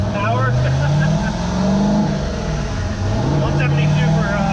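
A 20-year-old car making over 1000 horsepower at the wheels runs hard on a dyno, its engine droning loud and close with rising and falling revs throughout.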